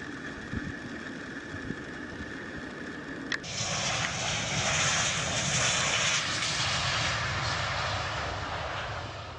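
Sukhoi Superjet 100 jet airliner in flight: a continuous engine drone and cabin hum that suddenly swells into a louder, brighter roar a few seconds in, then holds steady with no voices.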